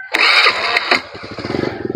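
A motorcycle engine cranks and catches outdoors, a loud close burst of starter noise settling into a rapid, pulsing idle.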